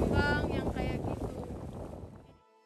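A boat travelling on the sea near Ujung Kulon, a steady rushing wash of water and wind noise that holds loud, then fades away near the end.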